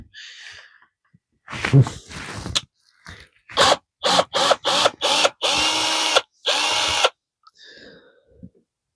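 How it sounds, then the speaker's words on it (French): A handheld power drill backs out screws in a workshop, whirring in a series of short bursts, then two longer sustained runs, with quiet pauses and faint breathing between them. "je vais y aller à la machine pour les dévisser"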